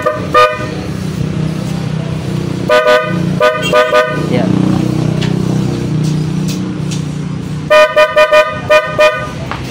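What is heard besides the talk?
PIAA loud horn on Honda ADV 160 scooter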